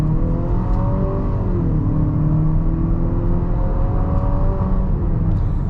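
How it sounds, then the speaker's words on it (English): A 2025 Nissan Murano pulling hard from about 25 mph at full throttle, a loud, close engine tone climbing steadily in pitch through the rev range, with one shift and then a renewed rise, heard from inside the cabin. "we'll get it up to 25, punch the throttle, and see how fast we can get up to speed here"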